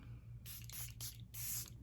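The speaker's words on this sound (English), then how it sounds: "I'm going to use the Charlotte Tilbury Airbrush Flawless Setting Spray." Charlotte Tilbury Airbrush Flawless Setting Spray hisses from its pump bottle in a few short, soft bursts close by, with brief gaps between them and a quiet room behind.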